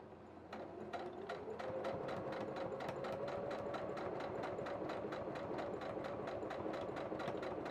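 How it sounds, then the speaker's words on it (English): A sewing machine runs a line of stitches along a strap of fake leather and broadcloth for a reflector bag, its rapid regular needle clatter and motor whir starting after a brief quiet and continuing steadily, close and fairly soft. "so we'll do one line of sewing on the end here"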